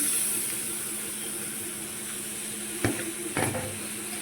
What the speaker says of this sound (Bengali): এর মধ্যে আমি এবার মাছের তেলটা দিয়ে দিচ্ছি